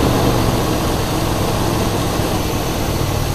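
A 1972 Buick GS Stage 1 V8 idles at a steady, loud, close rumble with no break and no voices.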